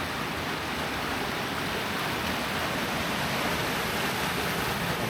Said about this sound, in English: And there is a small waterfall.